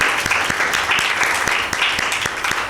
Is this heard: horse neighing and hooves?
no